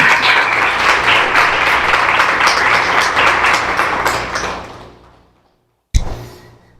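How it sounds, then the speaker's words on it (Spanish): A church congregation applauds in a dense, steady wash of clapping that fades out to near silence, followed by one sharp thump like a door closing. "Un aplauso a Él, pues."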